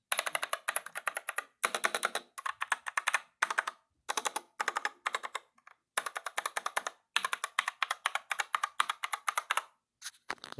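Rapid bursts of typing on a Dierya DK61e 60% mechanical keyboard, crisp clicky keystrokes recorded up close, in rhythmic runs separated by brief pauses.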